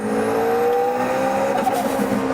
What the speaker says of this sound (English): That's the boost limiter.